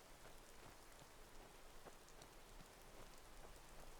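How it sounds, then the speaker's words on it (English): Rain falling in a modded Skyrim video game: a steady, faint patter of raindrops on surfaces with scattered closer drips, continuous and without talk. "I'm going to clear this rain up so we can see this in the daylight."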